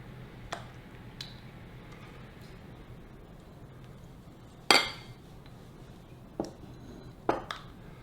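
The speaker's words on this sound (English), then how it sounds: "Now let's move it out of this mixing bowl into a serving bowl" Dishes and utensils clinking as tzatziki is moved from a mixing bowl into a serving bowl: a few sparse, sharp clinks, one louder, over a quiet room hum.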